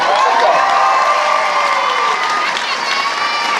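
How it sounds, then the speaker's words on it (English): A school prom assembly audience applauds, cheers and shouts loudly for a string quartet, a dense sustained roar of clapping and excited voices. "Just say one last round of applause for our string quartet."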